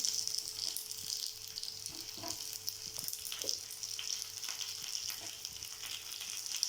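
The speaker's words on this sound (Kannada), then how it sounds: "ಇವಾಗ ಈರುಳ್ಳಿ ಬಂದು ಫ್ರೈ ಆಗೈತೆ" Onions frying in a pan for a sambar, with a faint, steady sizzle and a few soft stirring scrapes, fairly quiet and with no talk.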